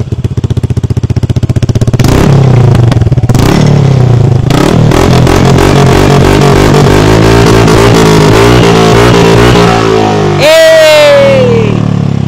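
Motorcycle fitted with a Villain exhaust pipe revving with no silencer, a very loud close engine that starts with a rapid idle putter, then rises into harsh repeated revs and a final high sweeping rev.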